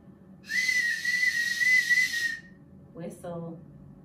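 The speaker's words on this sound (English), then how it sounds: "Whistle." A whistle is blown once during an early-years attention group session, a steady shrill tone lasting about two seconds, fairly loud and close, followed by a brief voice.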